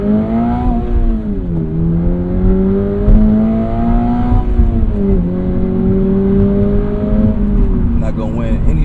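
A 2025 Subaru BRZ tS drops into first and accelerates, its engine rising in pitch through repeated revving climbs and short dips between shifts, loud and close, with a voice talking over it.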